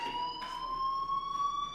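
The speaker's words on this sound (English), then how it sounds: "Hey, do you hear that fire alarm?" Steady, piercing school fire alarm in Life Is Strange, one continuous high electronic tone sounding loud and unbroken over a hissy background.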